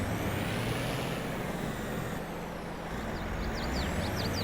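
A truck pulls forward towing a small trailer on a farm, its engine a steady, loud low rumble throughout with a faint high squeal near the end.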